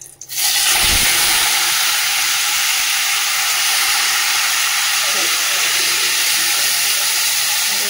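Marinated chicken drops into hot oil tempered with dried red chilli and bay leaf, releasing a sudden loud, close hiss that settles into a strong, continuous sizzle.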